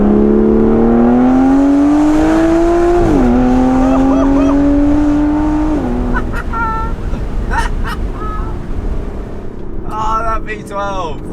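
An Aston Martin Vanquish S with a naturally aspirated V12 accelerates hard at full throttle, its engine note climbing steadily through two upshifts, loud and close from inside the car, with a brief voice and chirping sounds near the end.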